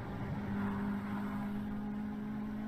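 A Honda CR-Z street racing car accelerates on a Malaysian road, a quiet, steady engine drone with a sustained tonal whine, heard faintly at a distance and without talking.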